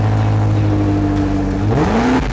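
A BMW X5 M Competition SUV in track mode accelerates hard, its engine droning steadily and then rising in pitch as revs climb, loud and close with no talk.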